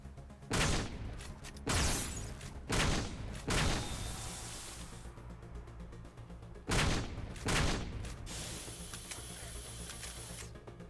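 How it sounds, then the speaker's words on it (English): Katana shotgun blasts in the game Halo Effect: six loud, sharp booming shots in two groups of four and two, each with a short decaying tail, no voices. "Starting with the Katana shotgun."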